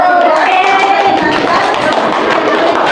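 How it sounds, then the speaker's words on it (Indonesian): A classroom of people clap steadily together, a dense continuous patter of hands with chatter mixed in. "Tepuk tangan untuk kelompok 1."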